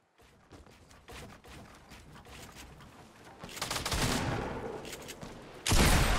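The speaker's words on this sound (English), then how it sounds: "This guy's still popping off rounds on us" Rapid gunfire in a Fortnite Battle Royale match, with bursts of automatic shots and a fusillade that builds louder and denser toward the end, heard alone without talk.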